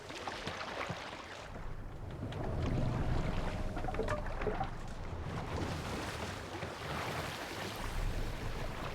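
Viking longship under sail on the open sea in Assassin's Creed Valhalla, with a steady wash of waves against the hull and gusting wind swelling and easing, a brief creak in the middle, and no talking.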